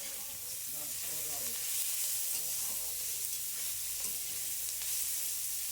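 Chopped onion, garlic and dried chilli fry in hot oil with a steady, close sizzle that runs unbroken throughout, and a faint voice comes through briefly near the start.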